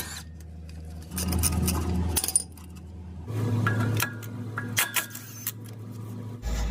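Metallic clanks, clicks and tool rattles from caliper bolts being removed on a 2015-or-later Toyota 4Runner brake, with a low steady hum underneath and several sharp bursts close by.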